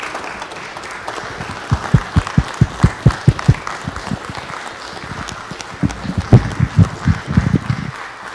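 Applause from the audience at a city council meeting, a loose scattering of claps that builds into two uneven bursts, moderately close with a little murmur underneath.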